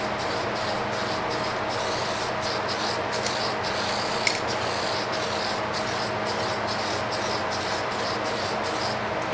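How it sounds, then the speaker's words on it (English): Aerosol can of graphite paint sprayed in light coats onto a cast iron exhaust manifold, a continuous close hiss with rapid rhythmic pulses running throughout. "It dries way faster if you spray light coats."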